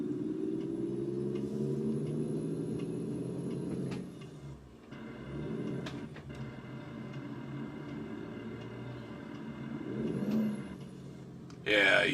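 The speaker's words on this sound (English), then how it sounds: "Yeah, you hear some grinding there." A Freightliner truck's gears grind as the driver floats gears, with rough scraping bursts over a steady engine drone from inside the cab.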